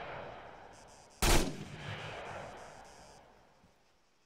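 A single sharp gunshot cracks out in the video game Squad and rings off into a long fading tail, with softer distant shots before it and another starting at the end.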